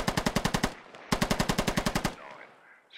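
Two bursts of rapid automatic gunfire from suppressive fire during a SquadOps military shooter match, each a rhythmic string of about eight loud close shots separated by a short pause, followed by a fading tail.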